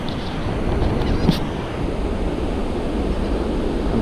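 Ocean waves washing onto a beach, a continuous broadband surf roar with wind buffeting the microphone, steady and fairly loud with no voices.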